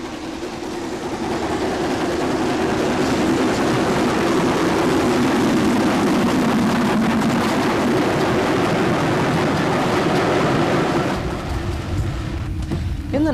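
The Schools class steam locomotive Stowe working on the Bluebell Railway in Sussex, giving a steady, loud, continuous rumble and roar that carries through the whole passage, easing slightly near the end.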